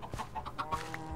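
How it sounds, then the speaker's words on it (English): Chickens cluck in a coop in the Minecraft video game, a series of short, separate clucks and calls at a steady, moderate level, no talking. "Yeah, I got chickens inside the coop."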